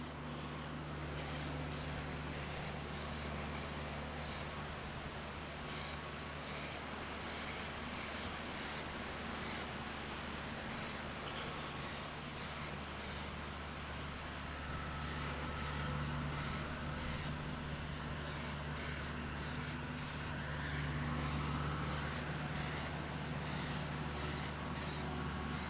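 Plasti Dip aerosol sprayed onto the chrome ring of a removed Ralliart bumper, a steady broad hiss that runs close and continuous under a low droning background hum, with brief pauses in the spray.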